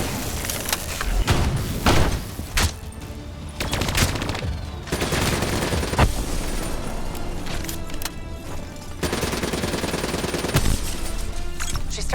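Sustained automatic turret gunfire in the Black Ops 3 campaign on PS5, a dense, loud stream of rapid shots and heavy impacts running almost continuously, broken by a few brief lulls and sharp crashes.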